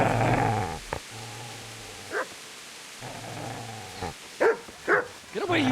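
A dog in the medieval game Kingdom Come Deliverance growls low, then lets out several sharp barks and yips, with a voice shouting briefly among them.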